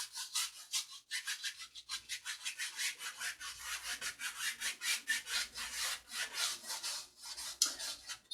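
A paint brush laid on liquid white over canvas in crisscross strokes, making steady rhythmic scratchy brushing swipes close up, about two strokes a second, with no speech.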